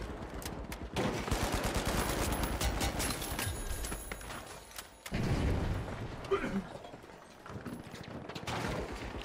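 Rapid automatic gunfire in the shooter game The Finals, with dense bursts of shots and a brief pause before firing resumes, mixed with game mechanisms and occasional booms.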